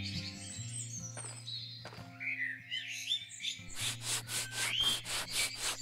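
A concrete grinder in the video game Garage Flipper gives a rhythmic, repeated rough grinding and scraping, close and steady, over game ambience with chirping bird-like tones.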